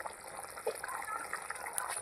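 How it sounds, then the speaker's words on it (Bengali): Fish curry broth simmering in a pan whose lid has just been lifted, giving a soft, continuous watery bubbling and gurgling close by, with no talk over it. "ঝোল আমার সুন্দর করে ফুটে গেছে।"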